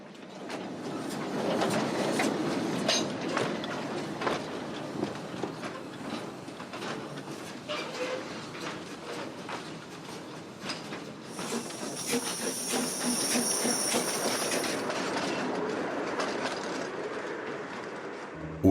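An old 0-4-0 locomotive slowly pushes a train of freight wagons along the tracks, wheels clicking and clanking over rail joints with hissing, and a high metallic squeal partway through.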